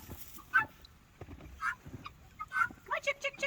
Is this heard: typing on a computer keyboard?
no